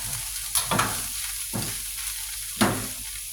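Mussels stir-fried with basil in a pan hiss with a continuous loud sizzle, and three sharp scraping stirs break through it at roughly one-second intervals.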